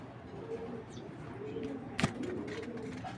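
A racer pigeon gives low, soft coos, close but faint, with a sharp brief knock partway through and some background noise.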